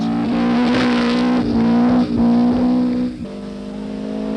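A 1977 Southern Cross Rally car speeds through forest stages, its engine loud and close with a steady high drone and brief dips at gear changes before it settles lower.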